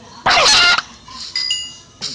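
A chicken in the Minecraft video game gives a loud cluck, followed by fainter, higher clucks and another short cluck near the end.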